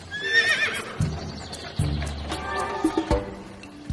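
A horse pulling a wagon between villages lets out a loud whinny, followed by hollow clip-clopping hoof beats and a few more snorting calls, close by.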